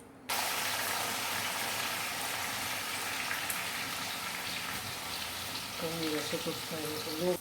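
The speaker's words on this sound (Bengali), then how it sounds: "বিরিয়ানির জন্য এক কাপ মতন কড়াইতে তেল গরম বসানো হয়েছে এইবারে বেরেস্তার জন্য পেঁয়াজ দেওয়া হবে" Sliced onions frying in about a cup of hot oil in a kadai for biryani beresta, a steady close hiss and crackle that continues throughout, with a voice briefly near the end.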